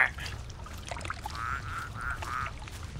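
A duck in the horror video game The Cursed Forest, a run of four nasal quacks in quick succession over a low, murky swamp ambience, with no voices.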